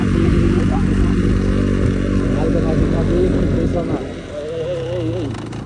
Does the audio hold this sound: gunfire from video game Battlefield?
no